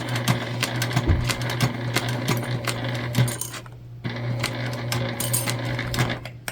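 A sewing machine stitches a large bag with a steady motor hum and rapid needle clatter, close and fairly loud, pausing briefly once before running on.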